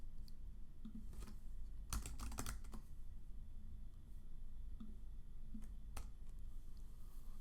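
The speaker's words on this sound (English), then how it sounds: "enter your comment in the text area and click Add" Someone typing a comment on a computer keyboard, faint scattered key clicks with a short quick burst of presses, then sparse isolated taps against a low steady background hum.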